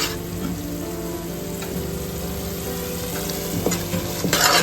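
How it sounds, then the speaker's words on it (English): Chopped onions and curry leaves fry in a pan for a soya chunks dry fry, a steady close sizzle broken by the scrape and clack of a spoon stirring, louder near the end, with no talking. "Keep stirring until the onions are soft and transparent."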